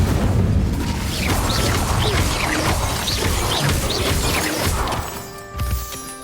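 An Incendio fire spell cast in Hogwarts Legacy, heard as a sustained loud crackling roar and crashing burst lasting several seconds before tapering off.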